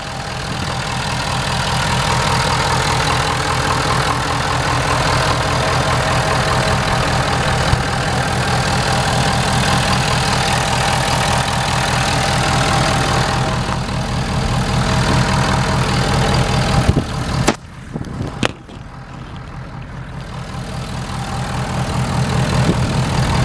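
The engine of a four-wheel-drive truck idles steadily with a low rhythmic rumble, heard close with the hood open, and a few brief knocks and a dip in level near the end.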